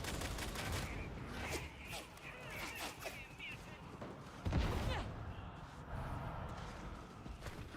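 Repeated gunshots in a video game, scattered sharp cracks over a busy, noisy backdrop, with one heavier blast midway and a person talking throughout.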